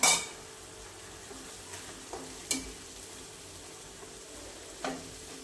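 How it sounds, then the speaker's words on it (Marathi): Tomato puree cooking over low heat with browned onion in a pan for a spicy soybean curry: a quiet, steady low sizzle with a few light spoon taps against the pan, no voices. "आता याच्यात टोमॅटोची प्युरी घालून घेऊया। टोमॅटो पण छान परतून घ्यायचं आहे आपल्याला।"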